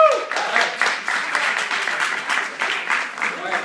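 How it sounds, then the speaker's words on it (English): An audience at a live storytelling event breaks into loud, close applause with scattered cheers, steady dense clapping throughout. "Round of applause for the audience"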